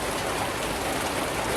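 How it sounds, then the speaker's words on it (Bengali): Heavy rain pours down steadily in a village, a dense, even wash of drops beating on surfaces nearby, with no voices. "বৃষ্টি তো থামতেই আছে না, বৃষ্টি পড়তেই আছে, অনেক বৃষ্টি"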